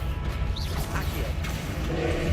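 An Accio summoning spell cast in Hogwarts Legacy, a brief magical whoosh and crash layered over dense, continuous game sound and a low rumbling bed.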